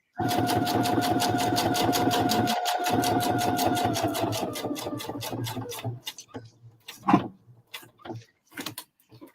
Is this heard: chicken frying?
no